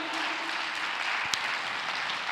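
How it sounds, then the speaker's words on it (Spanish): A church congregation applauds, a dense, even wash of clapping that holds steady throughout, with one sharper clap standing out near the middle. "Denle un aplauso al Señor,"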